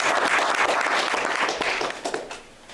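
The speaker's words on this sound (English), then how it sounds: "Maybe a nice round of applause would be helpful." A crowd at a school board meeting applauds with dense clapping that carries on for a couple of seconds, then thins out and fades.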